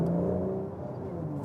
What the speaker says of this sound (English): So let's see now in comfort mode when you accelerate.